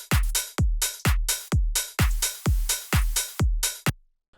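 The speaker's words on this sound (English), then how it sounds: "So without the clipper plugin it sounds like this." Bass house drum group without a clipper plugin: punchy kicks with deep decaying low end and bright snare or hat hits in a steady four-on-the-floor pattern, about nine beats before stopping abruptly, loud and alone.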